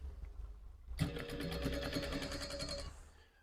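A domestic sewing machine with a sticking tension spring starts up and runs steadily for a couple of seconds, giving a close, even whir with a fast stitching rhythm before it slows.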